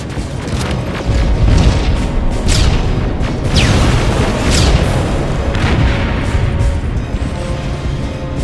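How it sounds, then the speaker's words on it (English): Rocket explosions in Terminator Resistance: loud, heavy rumbling blasts that merge into a continuous booming roar, with whooshing streaks passing over it. "Rockets! They're heading this way!"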